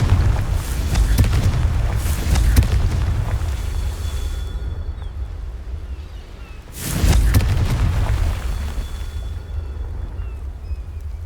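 Rolling, booming explosions from the Confringo spell in the video game Hogwarts Legacy, two loud sustained blasts with a rumbling decay between them.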